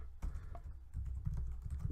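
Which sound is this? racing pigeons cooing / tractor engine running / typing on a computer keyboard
typing on a computer keyboard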